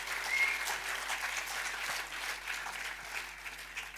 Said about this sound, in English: So big clap to Vietnam Province Conference and pre-novices.